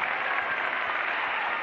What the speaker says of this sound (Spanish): Un aplauso para la pareja 29, muy bien.